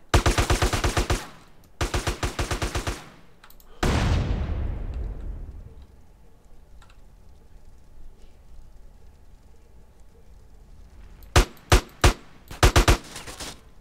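Rapid automatic gunfire in GTA San Andreas rattles in loud close bursts, followed by a booming blast that fades into a quiet lull, then several more sharp shots near the end.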